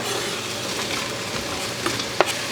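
Carrots tossed into a hot frying pan for nikujaga, Japanese meat and potatoes, give a steady broadband sizzle throughout, with a couple of brief scraping clicks near the end and no talk.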